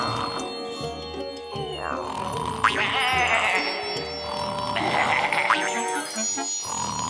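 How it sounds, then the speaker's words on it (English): In a Garfield Show cartoon, sheep bleat in a kitchen. Repeated bleats sound over a busy backdrop of music and cartoon effects, with some wobbling calls and a springy boing among them. "I have 4 sheep in my kitchen."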